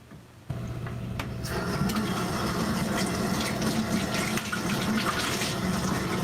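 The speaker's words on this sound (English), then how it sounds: "I'm gonna wash my hands" A kitchen tap turns on and runs steadily for hand washing, with a continuous close splashing and gurgling of water that starts abruptly and stays fairly loud throughout.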